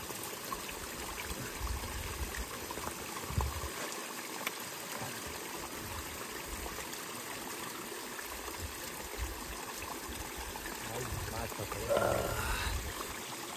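A clear mountain stream in Uttarakhand runs as a steady, close wash of flowing water for the whole stretch, with a brief splash near the end.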